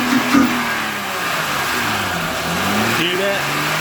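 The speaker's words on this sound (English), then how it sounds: "Rev her up." Acura TL from the 2004-2008 generation with an aftermarket intake installed, its engine revving steadily with rising and falling pitch, close and loud, while a voice speaks briefly near the start.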